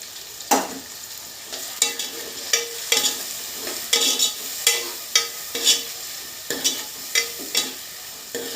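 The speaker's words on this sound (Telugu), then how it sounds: "ఆయిల్ హీట్ అయ్యాక కట్ చేసి పెట్టుకున్న ఆనియన్స్ వేసుకొని ఫ్రై చేసుకోవాలి" Onions and tomato pieces frying in hot oil for a village-style fish curry, a constant soft sizzle broken by regular scraping stirs of a spoon in the pan, about one every half second, with no talk.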